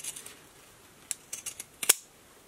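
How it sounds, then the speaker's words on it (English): Pinking shears trim excess bulk from layered fabric on a face mask, giving a few quiet crisp snips that grow sharper toward the end, the last cut loudest, close by with no talk. "take my pinking shears and just use them to trim the excess bulk"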